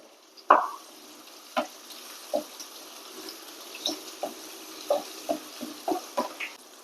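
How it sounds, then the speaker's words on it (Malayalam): Crushed shallots and kanthari chilies fry in a pan under a soft, steady sizzle, with sharp spits and pops every half second to a second, close by and with no talking. "ചെറിയ ഉള്ളി ചതച്ചിടുവാണ് കാന്താരി ചതച്ചത്"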